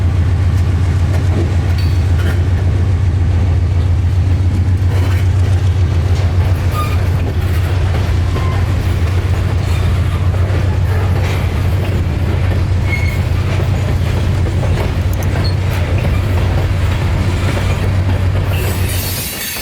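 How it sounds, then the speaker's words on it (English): A Seminole Gulf Railway freight train rolls steadily past on the rails, with a constant low rumble, rattling wheels and occasional faint squeals, loud and close throughout. "the train still had the rest of its journey to complete"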